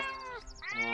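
A cartoon cat gives a single clear meow that rises, dips briefly, then rises again, close and alone with no talk over it.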